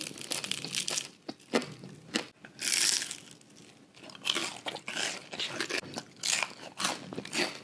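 Crisp, crunchy bites and chewing of fried cireng tahu, a tofu snack with a hard outer crust dipped in sambal rujak, heard close up as repeated crackling crunches with short pauses between.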